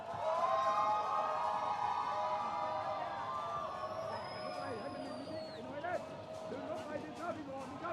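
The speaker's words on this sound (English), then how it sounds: "This Indonesian crowd does not need much to lift and show what they are all about." Indonesian crowd at a para-football match between Indonesia and Thailand, a broad roar of cheering and whistles that swells and holds under a commentator's voice, with shrill whistle tones and scattered shouts.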